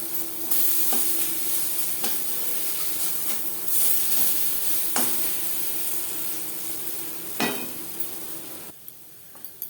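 Lentil fritters fry in a pan of hot oil, giving a steady, close sizzling hiss broken by occasional clicks and scrapes as they are turned, with no voices.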